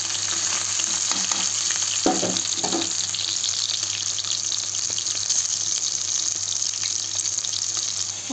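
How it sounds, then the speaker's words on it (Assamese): A whole fish fries in hot oil in a pan at home, a continuous dense crackling sizzle with a few sharper spits early on, steady and close, no talking. "মাছটো ভাজি ল'লোঁ"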